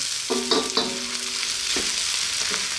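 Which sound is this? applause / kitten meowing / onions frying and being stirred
onions frying and being stirred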